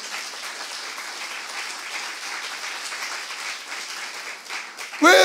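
A congregation claps continuously at a steady level during a Saturday worship service, and a voice bursts in loudly at the very end.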